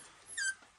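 A short, high-pitched whimper from a 28-day-old Kangal puppy, a thin whine rising briefly and then trailing off, heard close and alone.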